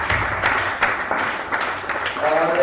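A church congregation applauds with rhythmic group clapping at a fairly steady beat, mixed with voices speaking and calling out.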